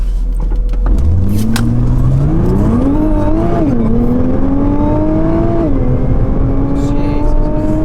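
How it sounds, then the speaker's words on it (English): A 2017 Nissan GT-R launched at full throttle, its engine note climbing steeply through the gears with brief dips at each shift, loud and close from inside the cabin. "I'm going to mash the accelerator and then we're going to see what happens"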